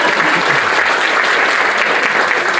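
A dense, steady wash of audience applause fills the whole stretch, loud and close with no break or rhythm change.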